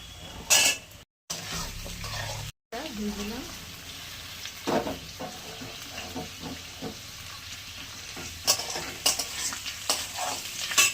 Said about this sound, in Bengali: পেঁয়াজগুলো একটু ভেজে নেবো, তারপরে আলু, ক্যাপসিকাম সব সবজিগুলো অল্প অল্প করে দেবো।